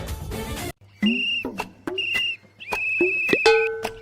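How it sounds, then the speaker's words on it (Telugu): A child blows a whistle at night in a series of sharp, shrill, tonal blasts, some short and some held, loud and close, after a brief burst of noise. "ఇలా రాత్రిపూట విజిల్ ఊదుతావేంట్రా పిచ్చోడా?"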